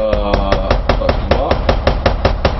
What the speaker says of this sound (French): en train de mettre plein de coups de marteau